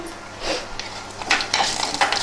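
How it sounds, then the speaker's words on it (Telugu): A lid is set onto a clay pot of cooking dal, making a few close clinks and a scrape over faint background noise. "పప్పు ఇంకా టైం పడుతుంది, అందుకని పప్పు మీద మూత పెట్టేస్తున్నాం."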